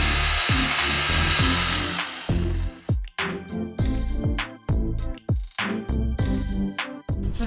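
A mechanical pruning saw cuts through tree branches, running as a steady loud buzz at first, then breaking into choppy, rhythmic bursts of cutting with short pauses between strokes.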